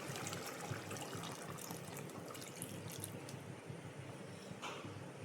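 Coconut milk is poured into a simmering Easter vatta fish curry, making a faint, continuous liquid rush and gurgle with no talking.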